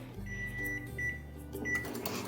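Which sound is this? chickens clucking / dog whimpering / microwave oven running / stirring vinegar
microwave oven running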